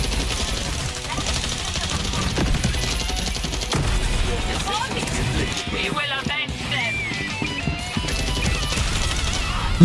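Rapid SMG fire in the shooter game FragPunk, dense bursts of shots crackling almost continuously and loud, with impacts and other game noise around them.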